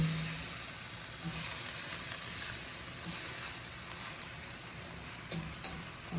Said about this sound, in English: Basically, you're just going to saute this until the sauce thickens up all the way